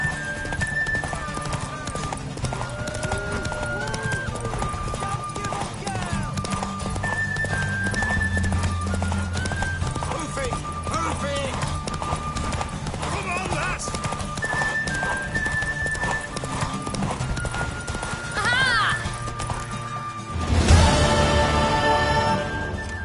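Rhythmic clip-clop of a mare galloping close by in The Witcher 3: Wild Hunt, continuous hoofbeats with occasional neighs and a sudden loud burst near the end, with voices at times.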